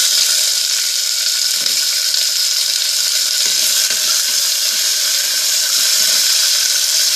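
Onion sizzles loudly in hot oil while coconut milk rice is being made, a dense, constant close-up frying hiss with faint stirring scrapes and no voices.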